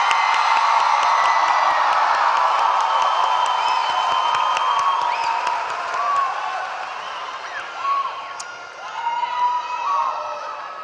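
A large crowd applauds and cheers steadily at a high school graduation ceremony, with scattered whoops and shouts rising over the sustained clapping.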